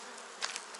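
Bees humming inside a hive during a spring inspection of a weak colony, a steady faint buzz with a couple of brief louder swells and a sharp bump at the very end.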